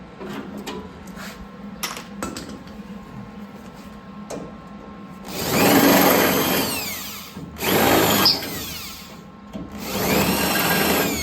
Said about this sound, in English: Literally just drilling through the top layer and just hitting the bottom layer.